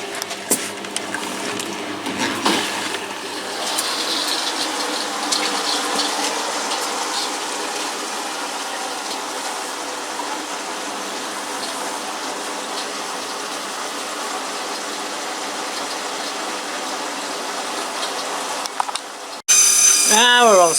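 Washing machine loaded with towels draining its water, a steady rushing gush with pump hum lasting most of the stretch, ending in a brief louder burst of different sound.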